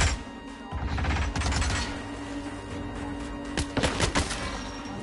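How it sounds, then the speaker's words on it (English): Gunfire in the Hitman video game comes as a few scattered bursts of sharp shots against a loud, steady creaking mechanical background. A cluster sounds early on and a couple more near the end. "Gunfire. Stay alert."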